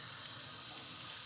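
Liquid released by baked peppers is tipped out of a dish, giving a soft, steady pouring hiss that is faint and continuous over its short span.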